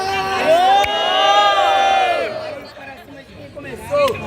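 A crowd at a rap battle roars and cheers loudly, with whoops and shouts rising together and then fading into scattered voices and chatter.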